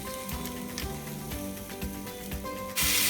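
Guajillo chile and vegetables fry steadily in a pan, a continuous close sizzle with small crackles throughout, no talk, then a sharper burst of hiss near the end.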